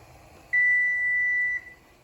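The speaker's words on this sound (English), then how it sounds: "our timer is going off" Kitchen timer going off while pasta cooks on the stove, a single steady electronic beep tone held for about a second, loud and close over faint kitchen background noise.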